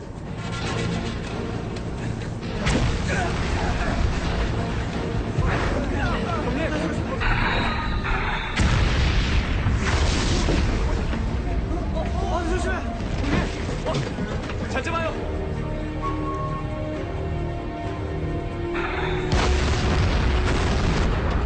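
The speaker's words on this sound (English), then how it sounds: "I've got secondary and tertiary explosions." Deep booming depth charge explosions rumble one after another, heavy and resonant, with tense voices and mechanical clatter mixed underneath.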